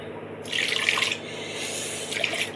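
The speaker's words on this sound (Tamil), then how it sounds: "தண்ணி ஆட் பண்ணிக்கலாம்" Water is poured into breakfast smoothie ingredients in two short bursts, a longer splash followed by a brief second pour, close by with no talking.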